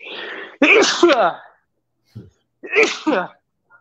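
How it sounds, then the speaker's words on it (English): One person sneezes loudly and close up in a sharp burst, and a person talks briefly before and after it. "I'm going to sneeze."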